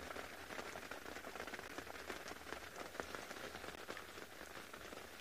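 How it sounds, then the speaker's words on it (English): Light rain patters steadily on an open safari vehicle at sunset, a dense, even hiss of drops with no break, close and moderately loud. "the rain is falling a little bit now"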